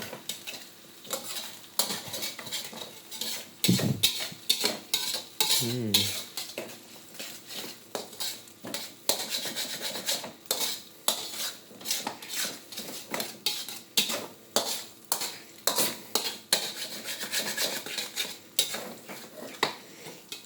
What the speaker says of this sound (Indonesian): kita aduk-aduk lagi agar telurnya tercampur rata dengan si bawang